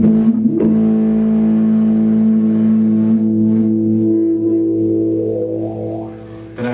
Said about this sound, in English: when you turn the gain way up, you can really get a lot of distortion, and it's a really full sounding effect.